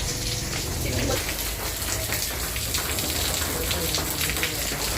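Heavy rain pours in a dense, constant hiss, drumming on surfaces close by without a break.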